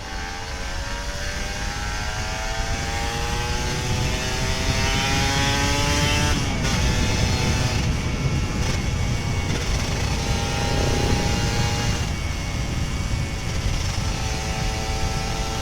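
An old Kawasaki Ninja RR 150 two-stroke motorcycle revving hard on a straight road, its high buzzing engine note climbing and falling through repeated throttle blips, loud and close with a rasping exhaust.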